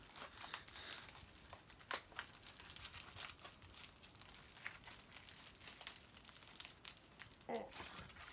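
Packing tape being peeled and torn off a mystery box of Pokémon cards: continuous close crinkling and ripping with scattered sharper tears, faint and busy throughout.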